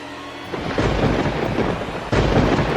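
Heavy rain roars steadily, joined by deep rumbling thunder that swells partway through, loud and close with no voices.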